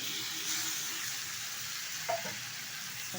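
Goat brain frying in a pan with potatoes and spices, a dense, steady close sizzle with a couple of brief stirring scrapes, no voices.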